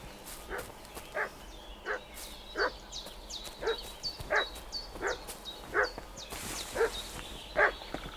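A dog barks and fusses in a regular series of sharp barks, about one every half second to second, fairly close, with faint whimpering yips between them and no clear talk.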